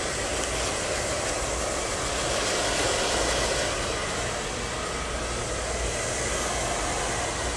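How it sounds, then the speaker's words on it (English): A hair dryer runs at power-dry strength during a salon blow-dry after a long layered haircut, a loud, steady, broadband roar that holds without a break for the whole stretch. "Give it a little power dry."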